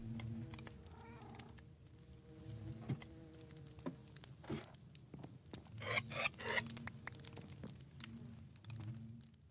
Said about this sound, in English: Hello, bees.